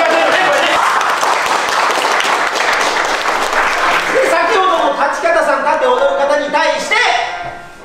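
An audience claps loudly for the entrance of geisha at a Japanese geisha performance. The dense, sustained clapping gradually thins as a voice and other sounds rise over it, then everything fades at the end.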